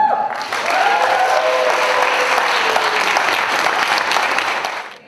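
Audience applause at an awards evening in a culture house in Ķekava, Latvia, a full ovation that swells in quickly and holds steady and loud before fading at the end.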